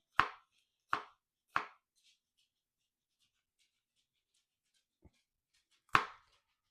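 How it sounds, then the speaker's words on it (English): Sharp knife chops through onions and garlic on a cutting board: three quick evenly spaced cuts, a pause, a faint tap, then one more firm chop, in a quiet room. "So we got 2 small onions halved and 2 cloves of garlic. I'm just going to cut them up."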